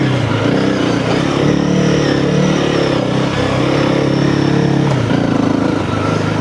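A Honda CRF300L motorcycle on light off-road riding, its engine humming continuously and close by with mild throttle changes, no talking.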